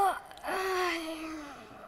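A tired cartoon bird gives one long, drawn-out yawn, close and soft, the voiced tone sliding slowly downward before trailing off.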